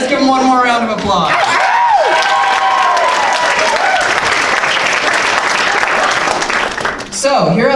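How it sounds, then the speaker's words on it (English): At the Laugh Out Loud comedy club, a crowd bursts into loud, sustained applause with whoops and cheers, and a voice rises briefly at the start and again near the end. "All right, let's give him one more round of applause."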